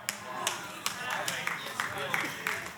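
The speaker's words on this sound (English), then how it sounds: "For the 4 of y'all who are clapping" Scattered clapping from a small part of a church audience during a sermon, a handful of sharp claps spaced out and fairly near, with no talk over them.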